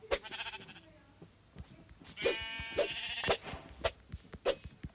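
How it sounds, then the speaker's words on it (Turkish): Several video game sheep bleats ring out in short bursts, mixed with clicks and soft background noises, fairly close and moderately loud. "Koyun çok gerçekçi duruyor."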